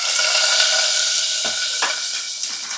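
Cloves, cinnamon, cardamom, cumin and fennel crackle and splutter loudly in hot oil. A dense, steady hiss is broken by a few sharp pops, with no talking.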